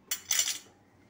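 A spoon mixing a spice blend of red chilli powder, garam masala and chaat masala in a bowl, heard as two quick close metallic clinks and scrapes.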